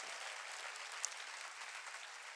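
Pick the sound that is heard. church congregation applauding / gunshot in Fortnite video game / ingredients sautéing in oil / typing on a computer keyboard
church congregation applauding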